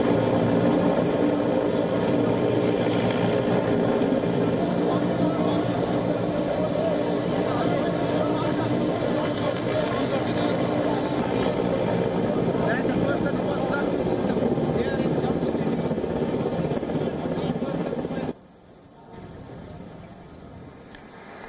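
Loud, steady Indian Air Force rescue helicopter rotor drone during flooding, with faint voices underneath, continuing for most of the stretch before cutting abruptly to quieter background near the end.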